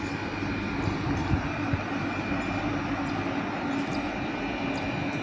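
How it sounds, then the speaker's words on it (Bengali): A high-capacity parcel van train rolls through an empty station platform on the Howrah chord line, giving a steady, even rumble and hiss with no speech. "ওখানে একটা হাই ক্যাপাসিটি পার্সেল ভ্যান যাচ্ছে ট্রেন।"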